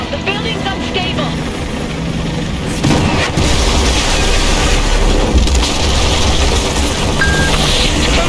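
Helicopter in the war video game Battlefield 4, a loud rotor and engine roar mixed with booms and explosions during a chaotic battle, with voices shouting over it.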